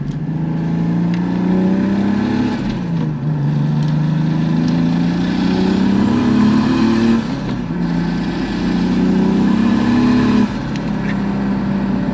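A Volvo 940 with a turbocharged BMW 2.5 engine pulls hard and loud from close by, revs climbing through several gear shifts with brief dips between, no voices.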